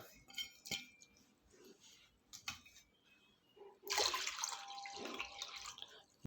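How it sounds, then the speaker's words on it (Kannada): Water being poured into a pot of soaked barley, starting with a few clinks and drips, then a sustained splashing gush for a couple of seconds, close and moderately loud. "ಇದಕ್ಕೆ ಅರ್ಧ ಲೀಟ್ರ್ ನೀರು ಹಾಕ್ಕೊಳ್ಳೋಣ"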